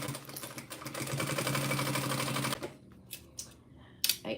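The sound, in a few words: sewing machine stitching cork tote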